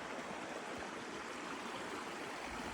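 River water flows in a steady, even rush, close and continuous with no other sounds over it.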